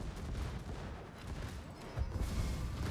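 Torpedo launches and muffled explosions in World of Warships, with a low rumbling barrage and a heavier thump near the end, heard alone without talk.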